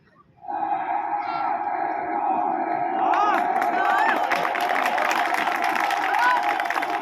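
One man imitates the roar and cheering of a crowd at a Modi rally with his voice, a sustained, loud wavering clamour that swells after a quiet start.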